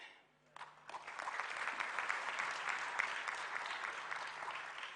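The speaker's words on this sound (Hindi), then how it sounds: "ये तालियों में दम नहीं है" A large audience at a political speech applauds. The clapping swells within a second and then holds steady and dense, a little distant and without voices on top.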